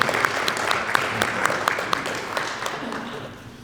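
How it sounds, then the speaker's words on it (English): Applause at a business hall of fame ceremony at Southwestern College, with crisp individual claps standing out over a steady crowd patter that gradually thins and fades toward the end. "we'll give them a round of applause anyway"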